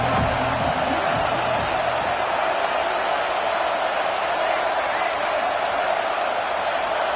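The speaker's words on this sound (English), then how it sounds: "how nice is it to have the home crowd going absolutely bananas" A home crowd at a college football game roars continuously, a loud, steady and unbroken wall of cheering.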